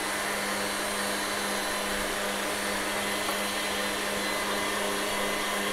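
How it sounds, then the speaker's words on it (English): Butter and sugar being beaten into a white creamy mixture for sablé Breton dough by an electric mixer, a steady loud motor whir with a constant hum running unbroken throughout, no speech. "Just gonna beat it, whisk it until you've got like a white creamy mixture."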